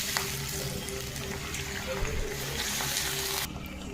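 Fish paste tipped into hot oil in a frying pan and stirred, a loud continuous sizzle and bubbling with scraping stir sounds throughout.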